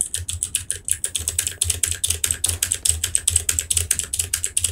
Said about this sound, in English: do you like my new keyboard?